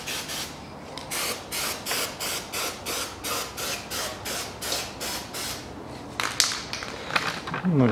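A hand pump sprayer mists cleaning chemical over a sealant-coated Toyota engine block from a 2003 Toyota Caldina, giving a steady run of about a dozen rhythmic hissing bursts, close and fairly loud, followed by a few sharper wet sprays.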